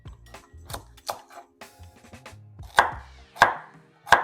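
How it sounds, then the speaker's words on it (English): A knife chops onions and carrots on a board in a home kitchen, sharp irregular strikes, some quick pairs and a few louder, well-spaced blows, close and clear against a quiet background. "Need to be finely chopped."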